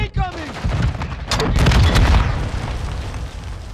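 Gunfire and a grenade explosion in the Call of Duty: Modern Warfare II video game, a loud sustained rumbling blast with rapid shots layered in, close and dense, with a brief voice at the start.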